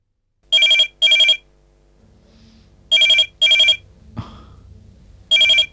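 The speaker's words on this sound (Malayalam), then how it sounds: "ഫോൺ ഇതവളാ ഹേമ." A telephone rings loud and close in repeated double bursts of bright electronic trilling, with quiet pauses between the pairs and a brief thump in one gap.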